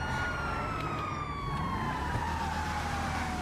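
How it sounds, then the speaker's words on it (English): A Gauntlet Interceptor's police siren in GTA Online holds a loud, continuous wail that slowly glides downward in pitch over a few seconds, with steady engine and road noise beneath it. "you can see the NPCs do react to you when you have the siren on"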